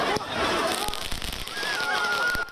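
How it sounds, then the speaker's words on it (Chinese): Firecrackers and fireworks set off by football fans in the streets of Paris after a World Cup final loss, sharp scattered cracks and pops over a crackling street din, with voices talking underneath. "还有鞭炮烟火满天飞"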